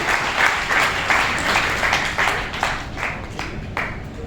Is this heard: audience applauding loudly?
yes